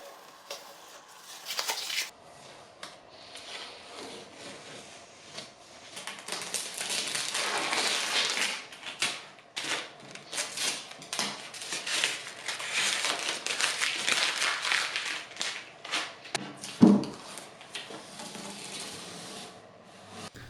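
Painter's tape peeled off a chalk-painted nightstand, giving a steady run of faint rasping, ripping and tapping sounds over about twenty seconds, with a brief sharper snap near the end and no talk.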